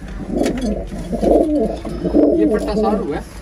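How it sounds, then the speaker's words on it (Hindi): A pair of pigeons coo in soft, repeated low throaty calls, fairly close, with steady background noise underneath. "ये कुछ कबूतर हैं"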